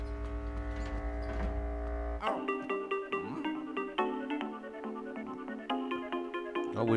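A phone rings in Luigi's Mansion 3, a repeated electronic chiming ring pattern after a sustained tonal game sound, under quiet game audio.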